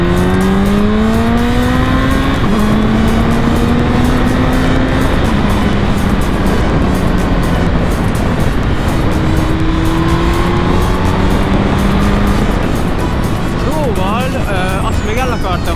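A large motorcycle restricted to 35 kW runs while being ridden on the road, its engine droning loud and close with pitch rising and falling through gear changes under heavy, constant wind roar.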